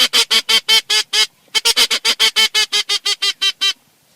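Wood duck calls come as a rapid run of about seventeen short, loud, close nasal notes in two bursts, with a brief pause after the first six.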